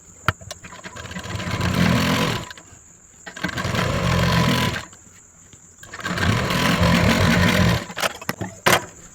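A sewing machine stitches a folded border strip on a blouse, running in three sustained bursts of steady whirring separated by short pauses, with a few clicks near the end.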